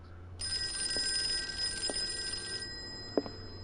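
A telephone rings in the video game Call of Cthulhu, a steady electric bell with a sustained high tone lasting a few seconds at moderate level, with a few soft thumps underneath.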